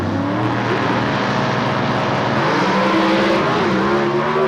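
A Comp Eliminator drag race car roars down the strip at the 2003 NHRA Gainesville meet, a loud, steady engine drone that holds its pitch and fills the whole stretch without pause.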